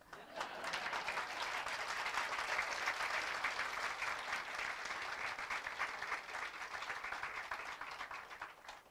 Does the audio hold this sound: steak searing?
no